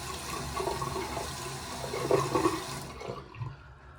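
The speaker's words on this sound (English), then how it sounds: "Go ahead and wet my razor." Water runs from a tap to wet a razor, a steady nearby splashing flow that cuts off abruptly near the end, leaving quiet.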